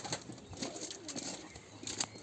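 Soft pigeon cooing repeats close by, low murmuring calls with faint rustling and a few sharper clicks in between.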